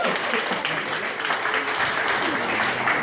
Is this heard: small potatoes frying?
no